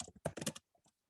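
Fast burst of typing on a computer keyboard, several quick close clicks followed by two faint keystrokes, in a quiet room with no talking.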